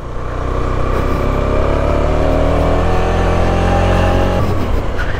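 A car engine straining in first gear up a steep hill road through pine forest near Darjeeling, a loud, steady, close drone that holds its pitch, then shifts down slightly near the end.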